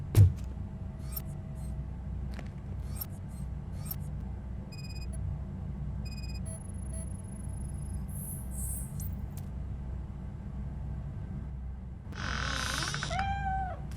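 A cat in Robocop: Rogue City gives a brief meow near the end, rising over a quiet ambient bed of faint chirps, ticks and electronic beeps.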